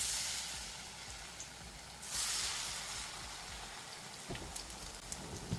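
A steady crackling sizzle of chicken fritters frying in about an inch of oil on medium-high heat, with a brief louder hiss partway through and occasional small pops.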